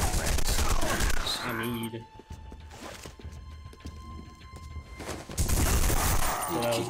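Rapid bursts of gunfire from The Punisher video game, loud and dense at the start and end with a quieter stretch between, while someone talks over it.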